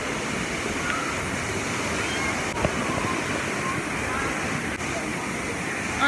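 A waterfall on a family outing near Mersin roars as a steady broadband rush, loud and continuous throughout, with faint voices barely showing beneath it.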